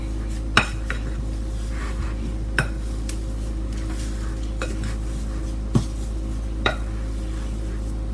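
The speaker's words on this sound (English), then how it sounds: "my batter is just about ready. Just a few more seconds of stirring." A utensil stirs sugar cookie batter in a bowl over a constant low hum, with a few sharp clinks against the bowl at irregular moments.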